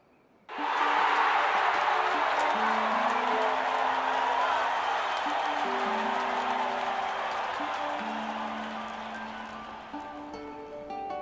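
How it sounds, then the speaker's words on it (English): A large stadium crowd in Octopath Traveler II erupts into sustained cheering and applause that slowly fades, with light game music playing beneath it. "Bet I can make them cheer louder, though."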